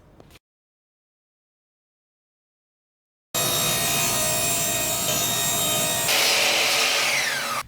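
A table saw slices through plywood sheet stock while a frame is built, starting abruptly after a short tap and near-silence, then a loud continuous cutting roar with rising whine toward the end of the pass.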